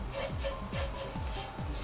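Oats and masala are stirred and pressed in a pan, giving a rhythmic scraping and rubbing of about four even strokes, close and moderately loud.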